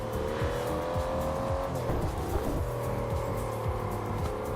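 An 800-horsepower car in the racing game TDUSC roars at sustained high revs with rising and falling engine tones as the throttle is eased off and reapplied, while the tires squeal and skid through the run, loud and continuous throughout.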